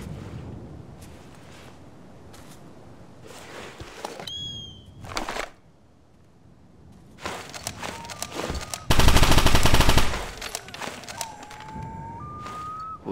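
Gunfire in the video game Operation Flashpoint: Dragon Rising, scattered bursts of automatic fire separated by quieter stretches, building to one loud sustained volley near the end, with a rising tonal whine in the background.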